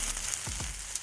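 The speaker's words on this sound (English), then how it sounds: "The sizzling beef is still sizzling." Beef sizzles loudly in a very hot pan beside cooked rice, a steady, close frying hiss that stays unbroken throughout.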